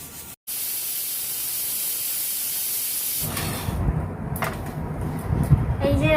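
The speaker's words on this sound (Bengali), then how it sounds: "প্রেসার কুকারে দিয়ে দিলাম, 2টো সিটি মারলে নামিয়ে নেবো" A pressure cooker on a home kitchen stove hisses steadily as it vents steam, then turns rougher and louder with sputtering bursts toward the end.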